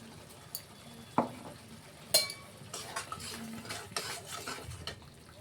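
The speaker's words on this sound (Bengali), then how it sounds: "দিয়ে ভালো করে আমরা 1 থেকে 2 মিনিটের মতন কষিয়ে নেব, যাতে কাঁচা গন্ধটা না থাকে।" Masala for a Bengali tangra fish curry being stirred and sautéed in a pan, soft sizzling under intermittent metallic scrapes and clinks of a spoon against the pot, close and moderately quiet, with no talking.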